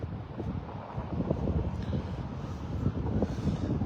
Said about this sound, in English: We have quite a bit of wind today